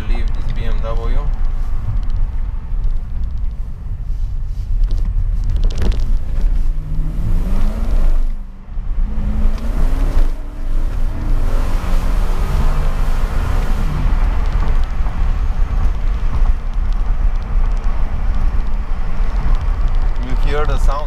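A BMW 745i E65 V8 is driven hard through city streets, heard from the passenger seat. A loud, steady engine drone runs throughout under road and wind noise, dipping briefly mid-clip before rising again.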